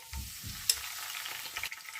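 Whole spices of mace, cinnamon stick and bay leaf fry in hot oil for a beef kosha, giving a soft steady sizzle broken by a few low stirring scrapes and one brief sharp clink.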